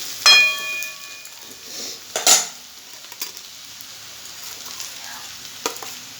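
Potatoes and onions frying in a pan with spices added: a sharp metallic clink and ringing tone at the start, then soft sizzling with occasional utensil scrapes and knocks, fairly quiet and close.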